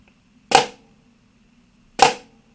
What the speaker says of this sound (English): we need to keep the flams fairly tight